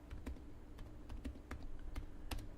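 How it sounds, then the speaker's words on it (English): Keys tapped on a computer keyboard in irregular clusters of sharp clicks, close and distinct, with no voices over them. "So let me just type in Final Fantasy"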